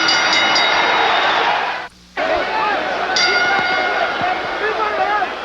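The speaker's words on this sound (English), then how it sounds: "The bell for round 8." A boxing ring bell rings out for round 8 of a Roberto Duran versus Sugar Ray Leonard fight, giving bright metallic clangs over a loud arena crowd roar, with a commentator's voice in the mix.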